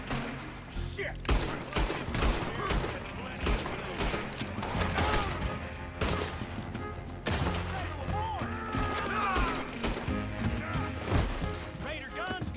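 Gunfire in Red Dead Redemption 2 crackles in rapid volleys and scattered single shots over game music and effects, with a player's voice talking intermittently over the action.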